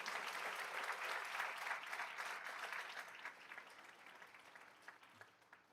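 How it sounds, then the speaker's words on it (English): Audience at a school board meeting applauding, a broad burst of many hands clapping that holds steady, then thins out and fades to scattered claps near the end. "Let's give them a round of applause"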